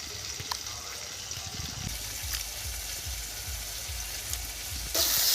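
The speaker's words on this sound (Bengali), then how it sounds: "দেখুন খুব সুন্দর করে ভেজে নিয়েছি, নিশ্চয়ই বুঝতে পারছেন।" Raw green tomato slices sizzle and crackle steadily in a hot pan in a rural home kitchen, a close, continuous frying hiss with small pops and occasional clinks of a utensil.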